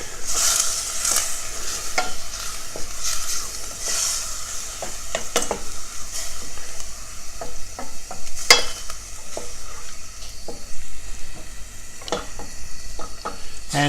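Macaroni with chopped meat, peas and pea juice cooks in a pan, giving a steady close sizzle and repeated scrapes and clinks of a utensil stirring against the pan.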